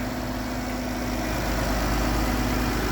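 A 2011 Dodge Town and Country minivan engine idles with a steady, smooth low hum and faint vibration, unchanging throughout and heard up close.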